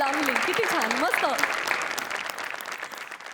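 Studio audience at a Marathi Diwali comedy show breaks into sustained applause, loud and continuous, with a voice speaking briefly over the opening moments before the clapping carries on alone.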